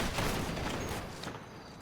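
Rifles crack in a ceremonial volley at a Veterans Day memorial, a single ragged burst of several shots fired together outdoors, fairly distant and quickly fading.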